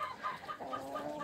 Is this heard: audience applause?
no